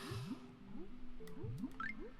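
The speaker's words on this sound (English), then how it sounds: "into the pool of dirty, filthy, disgusting water we go" Diving into a pool of dirty water in the Banjo Tooie video game, heard as a string of soft, bubbly squelching and gurgling effects that repeat in quick rhythmic bursts, with a few brief higher tones near the end.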